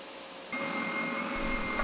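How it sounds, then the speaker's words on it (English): A segmented wooden disc being sanded, its glue-covered exterior, top and bottom smoothed down; a steady, close abrasive whir starts abruptly partway in and holds at a constant level to the end. "In the same manner, I sand the remaining segmented disc."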